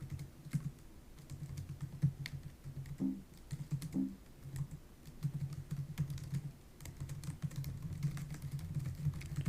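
Steady clicking of keys on a computer keyboard while SSH keygen commands are typed, with short bursts and pauses over a faint low hum.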